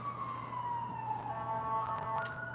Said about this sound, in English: I hear quite a few sirens right now